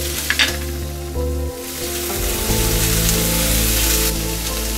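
Tomatoes tossed into Yippee masala noodles with vegetables in a hot pan set off a loud, steady sizzle that swells and holds after a brief clatter, with a low hum running underneath.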